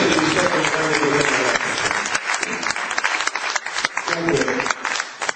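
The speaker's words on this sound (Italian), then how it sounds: "Facciamo un applauso ad Andrea," Audience applause at a vocal workshop tour event, loud sustained clapping filling the room for several seconds with voices and cheers mixed in, thinning slightly toward the end.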